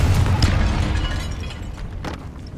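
A Confringo spell explosion in the video game Hogwarts Legacy: a loud, close, rumbling blast at the start that gradually fades, with a few sharp cracking bursts afterward.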